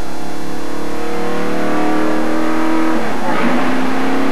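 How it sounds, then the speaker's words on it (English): A NASCAR Winston Cup race car at Atlanta in 1992 pulls away from a pit stop, its engine revving loudly with steady rising harmonics before a shift near the end into a higher gear, under crowd and announcer-level background noise. "There he just dumped it into high gear."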